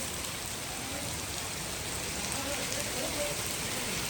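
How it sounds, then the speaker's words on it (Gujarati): Heavy rain falls in Nainital, mixed with snow and small hail, as a steady, even hiss of drops on surfaces at moderate loudness, continuous throughout. "ખૂબ જ વરસાદ છે"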